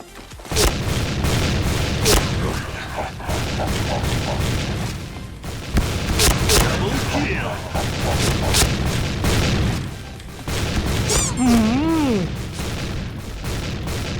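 Shotgun blasts in the online shooter Point Blank, loud and close, a dense run of booming shots with whizzing and ricochet-like effects mixed in, spread over about fourteen seconds.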